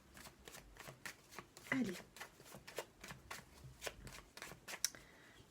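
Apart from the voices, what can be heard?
shuffling tarot cards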